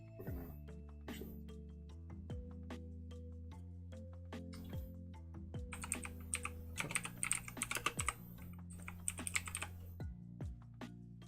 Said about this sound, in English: This keyboard, man, not the best for typing.